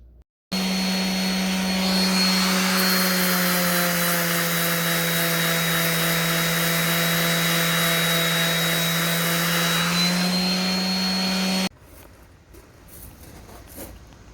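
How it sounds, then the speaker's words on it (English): A power sander runs steadily against wooden fence posts, a loud continuous whirring drone lasting about eleven seconds before cutting off abruptly into quiet room noise. "After sanding the front and back fence posts and underneath both beams, the results turned out great."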